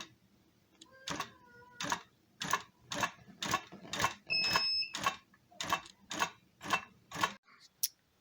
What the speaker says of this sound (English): now I'm just going to stitch a straight line towards me.